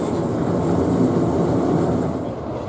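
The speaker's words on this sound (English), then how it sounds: "we notice 33202 Dennis G. Robson heading into the station with D6729" Class 33 diesel locomotive 33202 Dennis G. Robson, paired with D6729, rumbles into a station on the Epping and Ongar Railway, a loud steady low engine drone with rolling rail noise and no voices.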